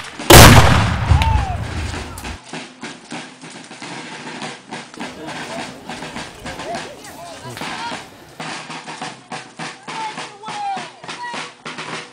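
A cannon booms once at a Civil War reenactment of General Hardee's retreat, a loud close blast that rolls away into a long fading rumble, with faint shouting voices afterward.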